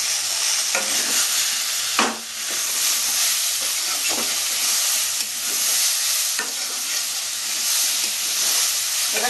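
Bitter gourd frying in a hot pan for a Bengali shukto, a steady bright sizzle with occasional stirring scrapes and bursts of spitting.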